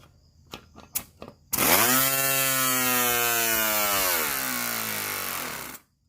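Lego pneumatic inline two-cylinder engine with a lighter, smaller flywheel running at 60 psi: a few quick clicks, then a loud, fast buzzing chatter of rapid pulses that rises in rate, holds steady and stops suddenly.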